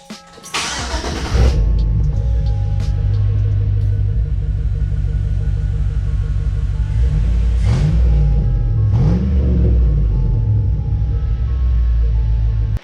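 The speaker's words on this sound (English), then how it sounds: "We straight piped it basically. So let me show y'all how it sounds real quick." A lowered vehicle with a straight-piped exhaust and no muffler starts up and idles with a loud, deep rumble, then gives a couple of short revs that rise and fall before settling back to idle.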